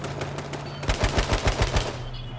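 Rapid bursts of gunfire in the survival shooter H1Z1, a quick run of about eight sharp shots in a row following a steady engine-like drone, with no talking.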